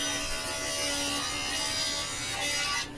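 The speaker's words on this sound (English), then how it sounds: "saw that I have a dedicated dado stack on, and I'm gonna cut some rabbets in here" A table saw fitted with a dedicated dado stack cuts rabbets into wood panels for a liquor cabinet carcass, giving a steady, loud, high-pitched whine that holds for about three seconds before easing off at the end.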